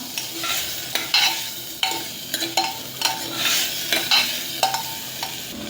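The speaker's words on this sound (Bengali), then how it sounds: "ধুয়ে রাখা মটর ডাল এগুলো দিয়ে দিলাম, আর গ্রেটেড পনিরটাও দিয়ে দিলাম। এবার ভালো করে একটুখানি নাড়ালাম।" Washed matar dal and grated paneer being stirred in a pot, with repeated scraping strokes and soft knocks over a gentle sizzle, close and steady.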